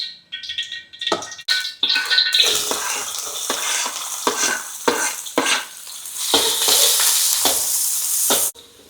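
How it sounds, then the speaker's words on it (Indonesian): Garlic and shallots sizzling and frying in a pan while being stirred, a steady loud hiss broken by repeated scraping stir strokes, close and with no talking. "Lanjut ini masak ceker dulu teman-teman, bawang putih, bawang merah."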